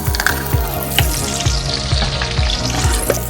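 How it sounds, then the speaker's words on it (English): Garlic sizzles steadily in hot oil for Peshawari beef pulao, a continuous frying hiss with repeated low clatters of a spoon or pot, close and fairly loud throughout. "Let's add the garlic and just fry it for a couple minutes."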